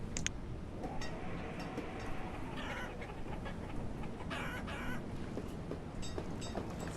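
Chickens cluck and a rooster crows in a farming village in the city-building game Banished, a busy flock of clucks and squawks at moderate distance over a steady outdoor ambience, with no voices.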